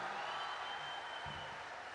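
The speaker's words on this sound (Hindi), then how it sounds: "बजाओ एक बार मिलके ताली साहब" An audience claps together at a Hindi comic poetry gathering (hasya kavi sammelan), a steady, fairly faint wash of applause throughout.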